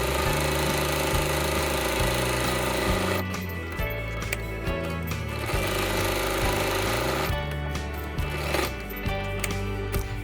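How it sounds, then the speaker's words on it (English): A sewing machine stitches a fabric face mask, running in a loud, close, steady mechanical whir with brief pauses and shifts in speed as the fabric is turned. "pick up the foot of the sewing machine"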